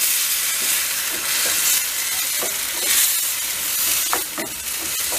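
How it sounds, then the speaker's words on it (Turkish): Tomatoes frying for menemen in a pan over high heat, a loud, steady sizzle with occasional stirring scrapes and no voices. "Şurada da yüksek ateşte birazcık pişecek."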